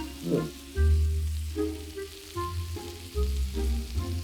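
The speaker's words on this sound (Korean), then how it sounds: "그 다음에 기름을 둘러서 볶는다" Chicken cut into small pieces stir-frying in oil for a fried Korean chicken dish, a steady sizzle with bursts of spattering and stirring, close and fairly loud.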